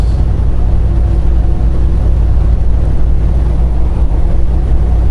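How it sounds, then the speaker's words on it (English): Loud, steady low-pitched engine roar from a truck in Milwaukee, Wisconsin, a constant deep rumble with no letup and no voices. "Unbelievable the amount of noise this truck produces."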